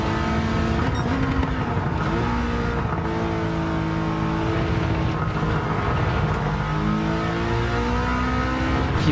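A Subaru race car in Gran Turismo 7 drones steadily with a loud, continuous engine note that shifts pitch as the revs rise and fall through a track corner, with no talk over it.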